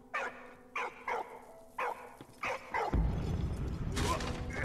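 A dog in the World War I game Valiant Hearts barks in a quick series of five or six sharp, evenly spaced yelps. A burst of louder, noisy game sound follows at the end.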